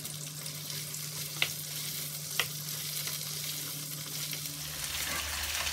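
Okra frying in hot oil in a karahi for achari bhindi, a steady close sizzle with a couple of sharp pops and faint stirring clinks, no talking.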